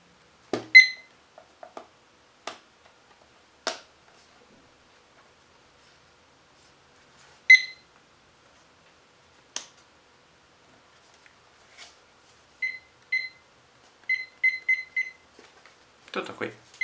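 A small digital clock that shows temperature and date gives several short high-pitched alarm beeps in quick repeated groups, with scattered clicks and rustles of handling during an unboxing around them.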